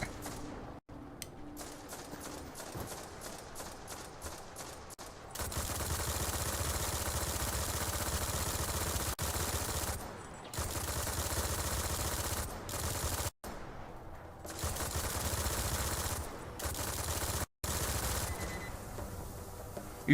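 A turret in the video game Destiny firing in long sustained bursts, loud and continuous over a low mechanical drone, with a few brief pauses between volleys.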